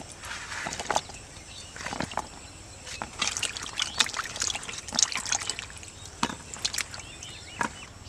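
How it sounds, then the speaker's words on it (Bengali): Chopped pointed gourds are rinsed in a bowl of water, with splashing, trickling and clattering of the pieces in steady irregular bursts close by. "পটলগুলো আমি জলে দিয়ে দিচ্ছি।"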